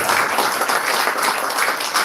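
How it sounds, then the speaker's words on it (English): Applause for the official launch of the book Insurance Mastery, a brief, dense round of audience clapping, loud and steady throughout with no voice. "Let's put our hands together and give him a round of applause."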